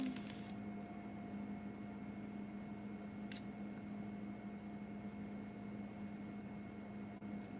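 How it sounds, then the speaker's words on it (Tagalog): A pot of chicken tinola soup simmering on a home stove gives a steady, low bubbling hum with a constant background drone, continuous and even throughout, with one brief faint tap partway through. "Ayun na, kumukulo na siya."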